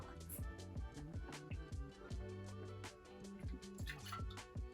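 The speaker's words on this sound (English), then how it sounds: "we're gonna add 3/4 of an ounce of Worcestershire, whatever." Worcestershire sauce pours into a Bloody Mary cocktail in a quick series of close glugs and drips, an irregular liquid patter that runs throughout.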